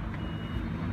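The electric sliding door on a 2012/13 4WD Toyota Hiace 10-seater low roof van gives a steady, moderately loud warning beep over engine rumble as it operates.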